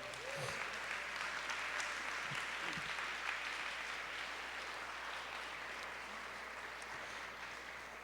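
A church congregation applauds together in a sustained, dense wash of clapping that holds steady for several seconds and slowly eases, heard from some distance with a faint hum beneath.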